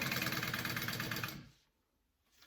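Sewing machine stitching a fabric bag, a close, loud, rapid mechanical chatter running steadily for over a second before stopping, followed by near silence.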